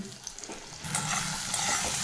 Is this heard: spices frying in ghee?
yes